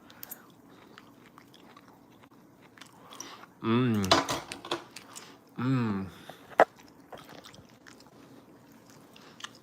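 Someone bites into and chews a piece of cooked steak, giving two distinct bursts of close, wet chewing with a crunchy edge, separated by quiet, followed by a brief click.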